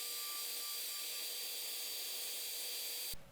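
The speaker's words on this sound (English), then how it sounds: "we're going to hit this with a hairdryer" A hair dryer blows steadily at close range over freshly painted fishing lures, a constant whirring hiss with a faint motor whine that cuts off just before the end.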